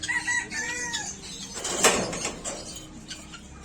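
Chickens and roosters on a farm at Peruchi Wadi near Nashik cluck and crow in overlapping calls, with one loud crow near the middle and a soft knock or slide in the background.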